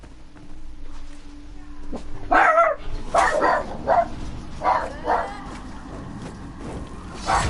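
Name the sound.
dogs barking in Elder Scrolls Online video game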